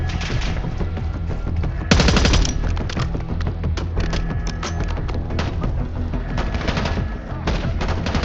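Sustained automatic gunfire in the video game Call of Duty Black Ops 6, a loud continuous rattle of rapid shots with a heavy burst near the start, and a voice faintly under it.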